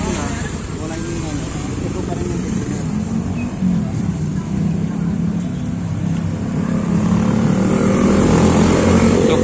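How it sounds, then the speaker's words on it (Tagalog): A motorcycle engine with a rattling, clattering fault runs steadily and fairly close, its rough mechanical noise building slightly toward the end, with a voice talking at times over it. "Kumakalansing yung motor natin kaya kailangan i-join up muna."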